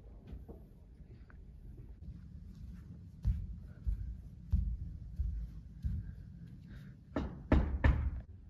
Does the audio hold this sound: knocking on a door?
yes